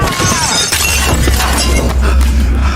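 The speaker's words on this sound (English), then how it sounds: "with a quick move, he threw him through a nearby glass window" A man is thrown through a glass window. The loud crash and shatter of breaking glass is followed by continuous tinkling and scattering shards against low rumbling impact sounds, close and dense throughout.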